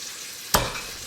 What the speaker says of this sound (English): They're here just sizzling away.